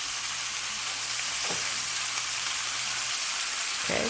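Chicken leg quarters fry in oil in a pan, giving a steady, loud, hissing sizzle throughout, with a low hum in the background and a couple of brief clatters.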